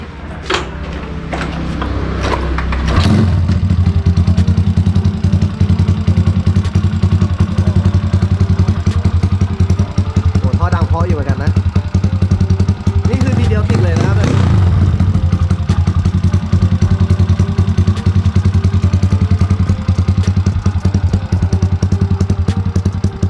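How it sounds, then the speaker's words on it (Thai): A Honda Dax motorcycle engine cranks and catches after a few seconds of clatter, then settles into a loud, steady idle that runs close to the microphone, with a couple of brief revs along the way. "ลองสตาร์ทเครื่องให้ฟัง คิดว่าหลายๆคนอยากจะฟังแล้วแหละว่า มันดังยังไง"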